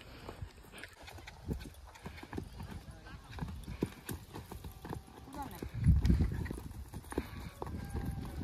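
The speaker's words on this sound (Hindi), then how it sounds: "હવે ઘોડી હાંકવાની છે" A mare walks in a festive street procession for a Mandhata birth anniversary, her hooves clip-clopping steadily on pavement while people talk and crowd noise fills the background.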